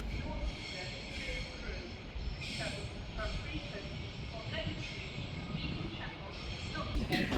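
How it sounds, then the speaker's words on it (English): Avanti West Coast Class 390 electric train departing Manchester Piccadilly for London Euston, a steady rumbling roar of rolling stock filling the station, continuous and fairly loud with some higher squeals and station noise mixed in. "now departing is 390050 with the 1456 Avanti Westcoast service to London Euston"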